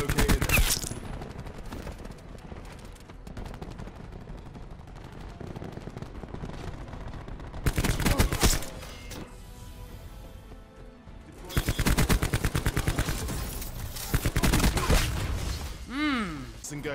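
Bursts of KN57 rifle fire in a Call of Duty match, crackling in dense loud volleys that come and go between quieter stretches of game sound, with speech-like game voices mixed in.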